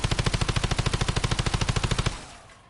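Automatic gun in Call of Duty MW3 fires one steady rapid burst of about twenty evenly spaced shots, close and forceful, then stops and fades into a short tail.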